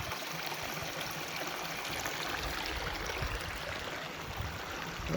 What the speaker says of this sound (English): Beautiful little creek here.